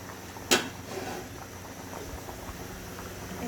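Hilsa fish and taro curry simmering as its gravy thickens, a faint steady bubbling with one sharp knock near the start, quiet and close, with no voices.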